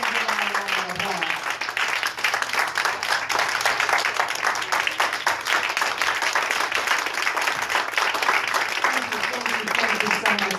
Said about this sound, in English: I think we should stand and give our round of applause.